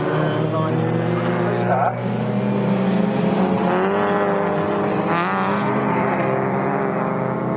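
MG Metro race cars roar around the Snetterton circuit, engines droning loudly and steadily with shifting pitch as they race, while a commentator talks over the noise.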